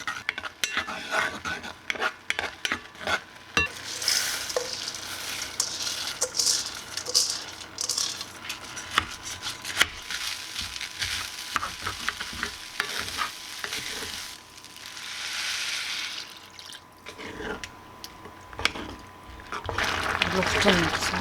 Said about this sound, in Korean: 내장 볶아줍니다.